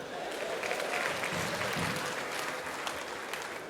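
A live comedy show audience in Benin claps steadily in dense, sustained applause, with crowd noise and a faint voice mixed in throughout.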